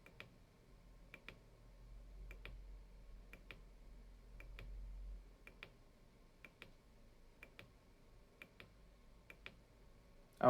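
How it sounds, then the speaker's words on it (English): Push button on a lab interrupt counter board clicked repeatedly, a faint, steady series of sharp ticks roughly every half second over a low hum. "I'm going to keep clicking. You can hear the button probably"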